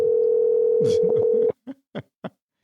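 A steady telephone ringback tone holds for about a second and a half while a phone call is placed, then gives way to three short, evenly spaced beeps.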